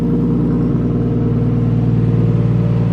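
A Nissan Skyline's RB25 engine runs on a dyno with a loud, steady, droning rumble that holds an even pitch throughout, with no voices.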